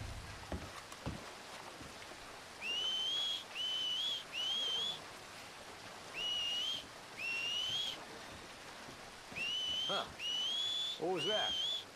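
A character whistles in a video game, several short rising whistles repeated in bursts against a quiet ambient background of rain and faint noise.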